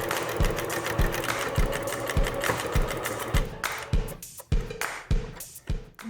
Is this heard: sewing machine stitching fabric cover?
yes